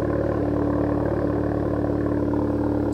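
A loud, steady idle from a straight-piped SEAT Ibiza Bocanegra 1.4 TSI exhaust, a deep, rumbling low drone that holds constant throughout, no revving.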